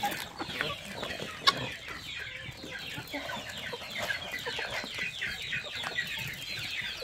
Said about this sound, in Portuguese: Olha a galinhada.